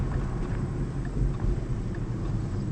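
Wind rushing through lowered car windows while driving a car with a Corsa sport exhaust, a steady broad roar with low rumble, continuous and close, no voices.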